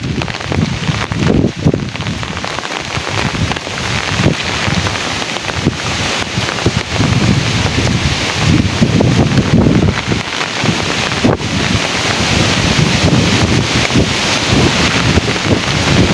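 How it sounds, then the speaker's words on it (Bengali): A storm in Rajbari district in Bangladesh brings downpour and strong wind, with loud continuous gusts buffeting the microphone over heavy rain, close and unbroken throughout. "প্রচুর বাতাস হচ্ছে এখন"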